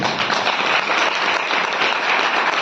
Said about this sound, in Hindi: दोनों मेरी माताओं के लिए जोरदार तालियां